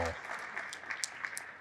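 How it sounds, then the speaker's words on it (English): A live stadium fan Q&A audience applauds a fan wearing a Tim Howard jersey, brief scattered clapping with a few sharper claps standing out, a voice briefly audible at the start. "Give him a round of applause for the Tim Howard jersey."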